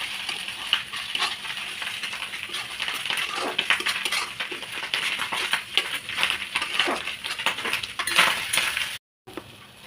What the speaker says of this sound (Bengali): জিরের গুঁড়ো। ভালো করে একটু নেড়ে নেবো।